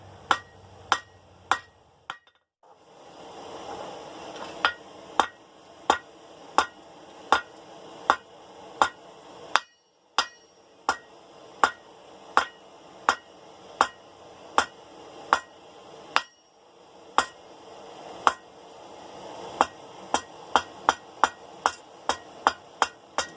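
Hot steel hammered on an anvil while tapering the point of a forged dinner bell: a steady series of sharp, ringing metallic strikes, close and loud, with a brief pause partway through and no talk.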